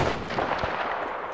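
Gunfire in the Battlefield V shooter during a sniper mission, with a sharp report standing out from dense battlefield noise around it; loud and close, with no talk.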